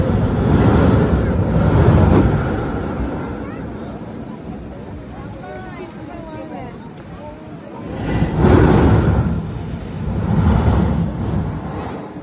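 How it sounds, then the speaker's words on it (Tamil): Ocean waves breaking on the shore at Mughsail Beach near Salalah, Oman, a loud broad roar that swells, eases and surges again, with wind buffeting the microphone and voices talking over it. "வருது அலை."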